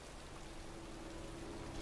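Steady pouring rain over a cemetery in the Heavy Rain game, a faint, even hiss of downpour with no breaks and no voices.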